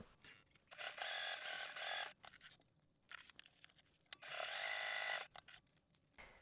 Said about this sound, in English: So I'm stitching along here.